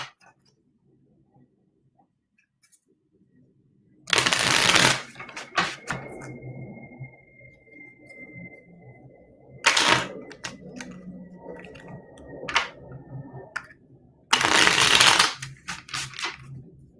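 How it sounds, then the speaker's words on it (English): A deck of cards is shuffled in three loud, brief riffling bursts spread across an otherwise quiet stretch, with soft handling clicks between them. "I'm going to first start to shuffle the deck for your sectors"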